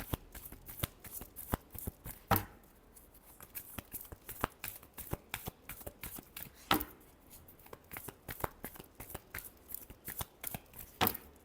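A deck of tarot cards is shuffled repeatedly up close, with crisp riffling bursts and sharp flicks in an uneven rhythm, set against a quiet room.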